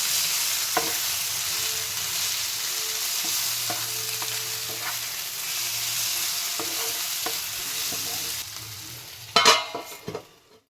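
Spices and salt get stirred into an egg and prawn curry frying in a pan, a continuous close sizzle broken by repeated spoon scrapes and clinks, with louder metallic knocks near the end.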